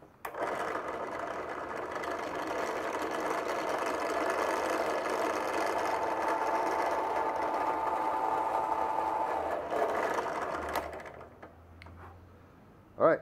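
A power drill bores a hole through bone for a letter opener, whirring steadily at close range for about ten seconds before spinning down, followed by a brief knock.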